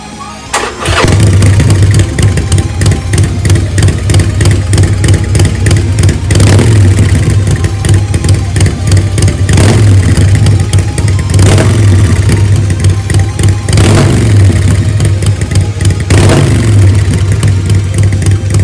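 A Harley-Davidson Forty-Eight fitted with a Vance & Hines Mini Grenade exhaust fires up and runs loud and close, with a steady low rumble broken by several sharp throttle blips roughly every few seconds.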